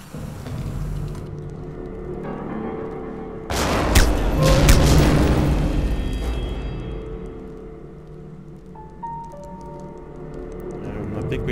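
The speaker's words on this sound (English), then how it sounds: "As long as no one heard that explosion." A heavy boom from a grenade blast in the stealth video game Velvet Assassin, with a sharp onset and a long rumbling decay that fades over several seconds.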